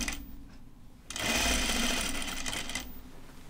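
A home sewing machine runs steadily for about two seconds, stitching a raglan top, after a quieter stretch of handling noise.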